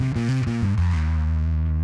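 Bass guitar played through a Boss ODB-3 overdrive pedal set around one o'clock, a sweet-spot level of grit: a short run of stepped low notes settling into a sustained, buzzing tone, steady and close with no talking.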